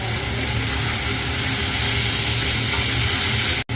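Chilli paneer and chilli potato sizzle loudly in a hot pan while being stirred, a dense, constant hiss with scraping from the spoon, close and unbroken until an abrupt cut at the end.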